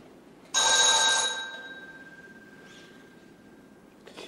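A telephone rings once in a short electronic trill, loud and close, then fades out into a quiet room.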